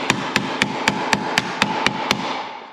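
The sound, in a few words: hammer striking sheet metal along a line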